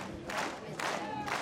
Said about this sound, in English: You hear the crowd getting into it.